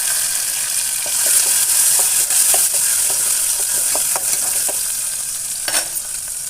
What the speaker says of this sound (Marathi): तर तेल गरम झाले, जिरं मोहरी टाकून, कढीपत्ता टाकून आणि टमाटर.